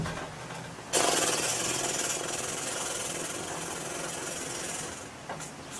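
A counterfeit Wheel of Mythicality is spun, giving a sudden loud burst and then a rapid, continuous rattle of clicks that carries on steadily with no talking.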